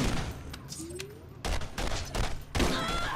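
Gunfire in the video game Borderlands, a few sharp blasts in quick succession with bursts of rapid shots, loud and close, separated by brief quieter gaps.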